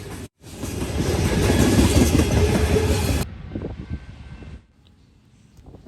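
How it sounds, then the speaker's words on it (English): A Norfolk Southern freight train, NS 179, led by ES44DC and AC44C6M locomotives, rumbles past loud and close with steady wheel clatter, then cuts off abruptly to a quieter, fading rolling sound. "Here we see NS 179 heading under the Conrail tri-lights near the former PRR NYC interlocking, with an ES44 DC and an AC44 C6M on the head end"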